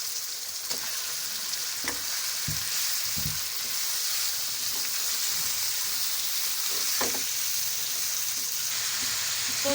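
Chicken and onions fry in a pan for parda biryani, a steady close sizzle with occasional clinks and scrapes of stirring, no talking.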